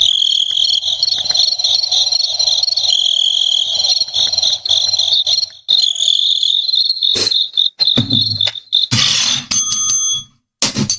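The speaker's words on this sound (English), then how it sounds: "I got crickets too, man." Crickets chirp loudly and continuously in a high, steady trill up close, broken near the end by brief clunks and handling noises before it cuts off.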